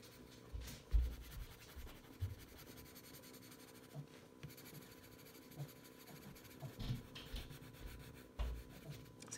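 A watercolor pencil rubbing and scratching over damp paper while pigment is added: faint, close, irregular strokes with soft scrapes and occasional light taps, alone in a quiet room.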